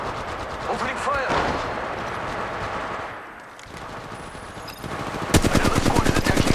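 Gunfire in the Apex Legends Mobile battle royale game, with rapid automatic bursts throughout and a louder, denser volley of repeated shots near the end, mixed with game effects.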